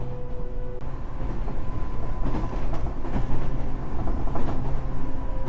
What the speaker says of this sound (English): The train moved again.